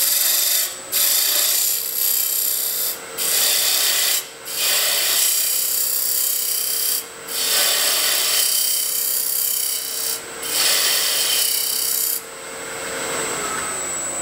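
A box scraper cutting wood on a lathe, producing a steady broadband scraping rasp in repeated passes broken by brief pauses, loud and close with no talking.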